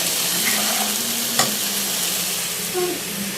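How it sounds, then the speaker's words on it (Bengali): Potatoes fry with pumpkin lentil dumplings in hot oil in a home kitchen, giving a steady close sizzle throughout with a few stirring scrapes and no talk. "কুমড়ো বড়ি দিয়ে আলু ভাজা করে নিচ্ছি।"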